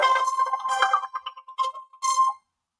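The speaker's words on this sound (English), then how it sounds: "Upper, mute your phone." A phone ringtone chimes in several short bursts, loud and close, during a boxing talk show.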